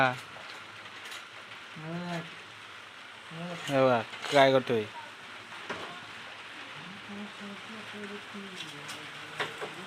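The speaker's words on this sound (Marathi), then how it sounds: "पाऊस पडतोय" Steady monsoon rain in a Konkan village patters softly and continuously in the background while voices, including a child's, talk over it.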